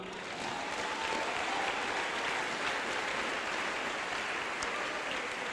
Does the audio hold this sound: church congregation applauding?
yes